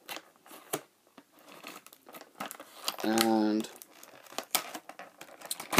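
Scissors cut tape on a Far Cry 3 boxed edition, with a short rasping cut near the middle among crinkling plastic and scattered handling clicks. Someone talks briefly.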